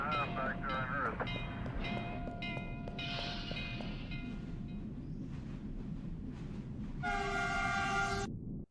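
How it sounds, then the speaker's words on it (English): A train in the video game Starstruck: Hands of Time, rumbling steadily with a sustained horn-like tone near the end, heard alongside a synthetic game soundtrack and effects, fairly loud throughout. "Train finally caught us."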